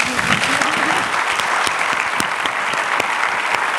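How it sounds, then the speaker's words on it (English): An audience at the Africa CEO Forum 2019 closing session gives loud, sustained applause, a dense crowd of clapping with sharp individual claps standing out and a faint voice or cheer early on. "So please give yourselves a big round of applause."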